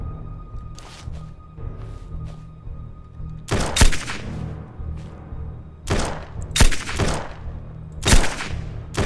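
Gunfire in the video game Surroundead: sharp, loud shots in short bursts and single cracks, spaced irregularly over a low rumbling game background, with no voices during the shooting.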